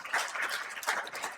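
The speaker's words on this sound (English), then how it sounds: "a round of applause for Doc again." Brief applause from a conference audience at an environmental education event in Accra, a fairly faint, scattered patter of hands clapping in a room, lasting little more than a second.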